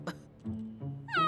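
A kitten meows several times in under two seconds: a short high cry, a lower drawn-out mew, then a rising bright meow, close and clear.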